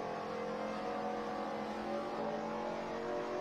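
Race car engine idling and revving on the Dover restart in a Winston Cup racing video game, a steady dense harmonic drone held at constant loudness, close and alone without talk.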